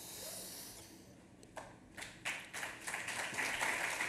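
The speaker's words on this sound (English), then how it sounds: "You don't need to clap at these things" At a cryptocurrency conference talk, the audience breaks into scattered applause that starts faint and sparse, then builds into a steady, moderately distant round of clapping.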